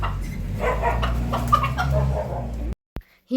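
A chicken clucks repeatedly at close range over a low steady hum, then the sound cuts off abruptly.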